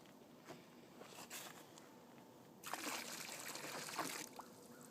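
Water being poured back into a container outdoors, a faint trickle that swells into a steady splashing pour for a couple of seconds, then quiets to a dribble.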